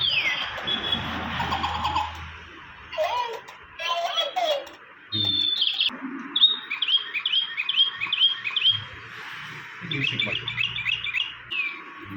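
A toy bird in a gift shop in Coimbatore chirps in repeated bright, tweeting bursts with trills, while people talk nearby in between and beneath the chirps.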